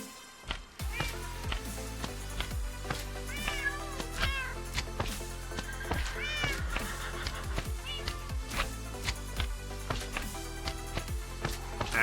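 A cat in the Minecraft video game meows a few times, with short rising and falling mews over steady, rhythmic background music that plays throughout.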